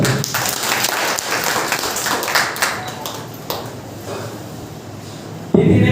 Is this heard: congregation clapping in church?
yes